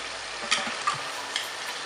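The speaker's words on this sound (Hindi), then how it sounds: "अच्छी तरह मिक्स करेंगे।" Chicken being stirred with salt, turmeric and spices in a pan, giving a steady close sizzle with a few soft scraping strokes of the spoon, no talking.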